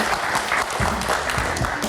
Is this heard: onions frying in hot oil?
no